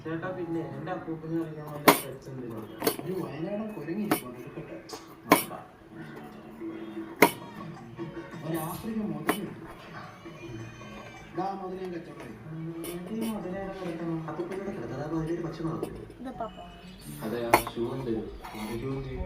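Bilimbi fruit (pulinchikka) being cut with a knife in a kitchen, producing sharp clinks and taps of the blade against a plate at irregular intervals, close by, while a person talks throughout.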